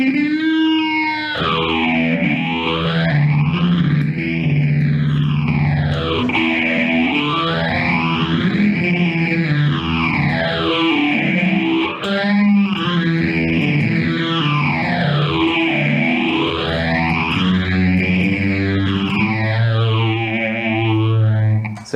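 Electric guitar played through a phaser effect pedal, a distorted sustained tone with a slow, sweeping whoosh that rises and falls in broad waves, loud and steady with no talking.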